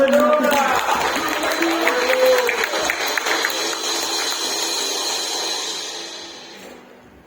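A church congregation cheers and applauds during a Sunday service, a loud sustained roar of clapping and voices with some higher shouts. It fades out toward the end.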